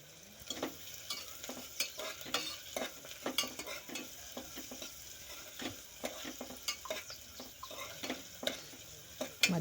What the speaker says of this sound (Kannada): ಕ್ಯಾಬೇಜ್ದು ಹಸಿ ವಾಸನೆ ಹೋಗತ್ತನ ಫ್ರೈ ಮಾಡ್ಬೇಕ್ರಿ.